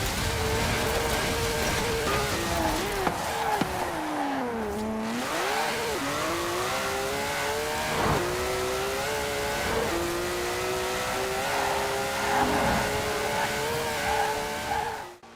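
A 1,200 horsepower Porsche engine in Forza Horizon 4 revs loud and close, its pitch climbing and dropping through gear changes, with tire squeal and skidding mixed in.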